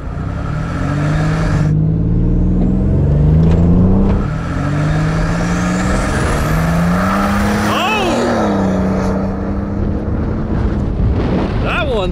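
A loud GMC Syclone engine with turbo boost revs up repeatedly, pitch climbing and dropping in bursts, with wind buffeting the microphone.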